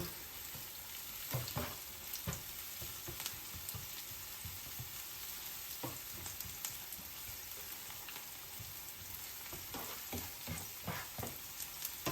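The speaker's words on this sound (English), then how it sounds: "We put in the garlic before the onions become brown" Garlic sizzles and fries in a pan with onions, a steady crackling hiss with occasional stirring scrapes, close and continuous.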